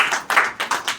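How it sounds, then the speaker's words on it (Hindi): Loud clapping for Pramod ji at a Hindi community gathering, heard as four distinct bursts of claps in quick succession, close and fairly sharp rather than a continuous wash. "जोरदार तालियां प्रमोद जी के लिए।"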